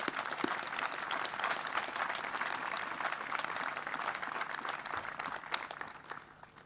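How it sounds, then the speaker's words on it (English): Sustained applause from a seated audience at the 2019 U.S. Africa Command change of command ceremony, steady dense clapping held for several seconds before tapering off at the end. "I think we should all just give them a very big round of applause"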